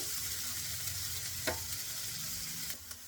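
Sprouted moong beans frying in a pan for egg bhurji, with a soft steady sizzle and occasional scrapes of stirring, close and fairly quiet with no talking.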